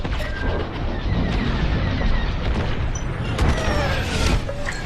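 A starfighter blows up in the Star Wars Squadrons space combat game as a broad, rumbling blast with crackling debris layered over continuous engine and battle noise, loud and sustained with no talking.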